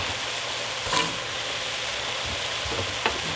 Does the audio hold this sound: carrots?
yes